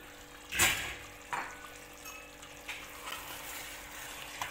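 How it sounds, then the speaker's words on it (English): Chicken for biryani cooks in a pot, with a soft steady sizzle and bubbling broken by a few brief scraping stirs, faint and close. "Open the lid and keep stirring in between."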